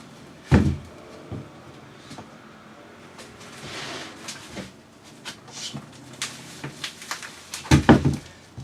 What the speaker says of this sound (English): So the bottom of the drawer comes out.